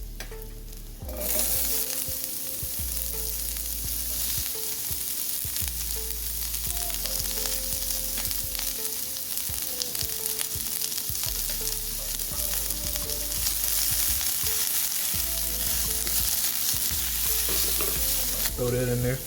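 Garlic and onions fry with a steady close sizzle in a pan while a utensil stirs and scrapes in irregular bursts; the sound stays loud and continuous with no talking.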